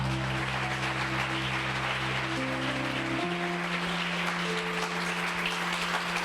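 Church congregation applauding in worship, steady crowd clapping throughout with sustained organ or keyboard chords underneath that shift partway through.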